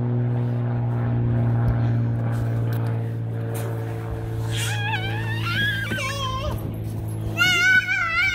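Propeller airplane flies overhead as a steady drone throughout, while a child's high, warbling vocalizations and cat-like cries rise over it in the second half.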